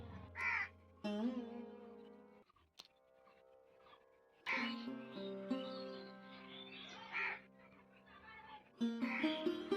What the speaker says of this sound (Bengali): ওই যে একটা কাক ডাকছে।